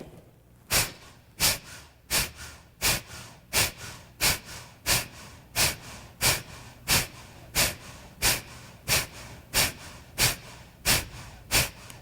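Breath of Fire yoga breathing: about eighteen sharp, forceful nasal exhales come in a steady quick rhythm, close and clear over a quiet room with no talking.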